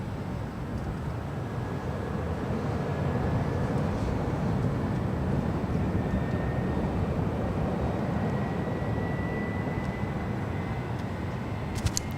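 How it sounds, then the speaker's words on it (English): A Delta Boeing 767 pushing back at LAX gives off a loud, steady jet-engine roar that holds unbroken and evenly through the whole stretch, with no voices over it. "Here in another Delta 767 pushing back. You can hear her a mile away. Those engines."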